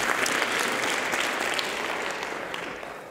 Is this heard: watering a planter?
no